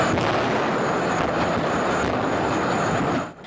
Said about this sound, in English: The explosions could be heard from miles away.